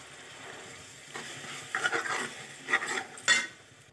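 Leftover boiled peas and spices being stirred in a hot pan, with a steady soft sizzle under clinking scrapes of a spoon against metal that grow louder toward the end.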